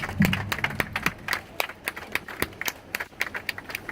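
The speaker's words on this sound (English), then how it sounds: "Let's clap for them one more time" Scattered hand claps from a crowd at a Quds Day protest for Palestine in Houston, irregular sharp claps at moderate distance, fairly quiet and thinning out.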